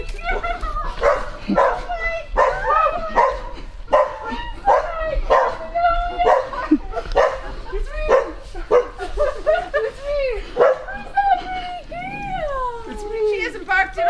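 A dog barks and yips in a string of sharp, loud, close barks mixed with whimpers, while people talk over it.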